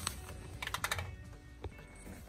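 Keys pressed on a Hyosung ATM keypad while a serial number is entered during machine setup: a quick run of several sharp, close button clicks, then a pause and one more press, with no talk over them.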